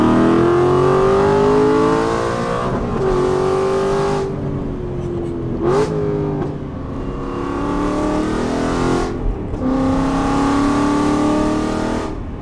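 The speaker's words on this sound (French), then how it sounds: "Je me retrouve avec Gaëtan dans la V8 Vantage" Aston Martin V8 Vantage engine revving hard on the move, heard from inside the car: loud, close, rising pulls broken by gear shifts and brief lifts across the run, with no talk over it.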